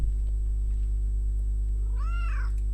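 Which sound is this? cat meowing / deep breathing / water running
cat meowing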